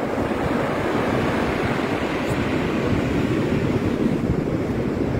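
Steady, loud rush of winter surf on the sea at Alanya, a dense unbroken roar mixed with wind noise on the microphone, without any talking.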